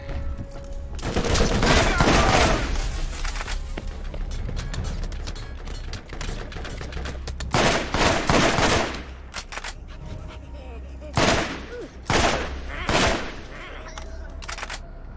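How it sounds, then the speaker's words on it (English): Loud bursts of automatic gunfire from the video game Borderlands come in repeated volleys, a long opening stretch followed by several shorter clustered bursts, with no talk over them. "Still shooting at me."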